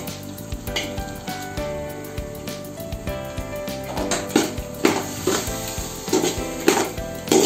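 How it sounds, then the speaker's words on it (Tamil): Tomatoes sautéing in a pan for Tamil-style chicken dum biryani, with a soft sizzle under repeated stirring scrapes and clinks of a utensil against the pan that grow louder toward the end. "நாம வந்து தக்காளி சேர்த்துக்கலாம்."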